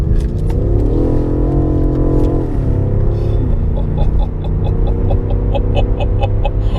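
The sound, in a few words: sports car engine accelerating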